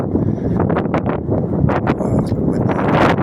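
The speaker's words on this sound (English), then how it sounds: "A bit windy here, guys." Gusty wind buffets a microphone outdoors, a loud continuous rumble with rustling bursts that persists throughout, with no clear speech over it.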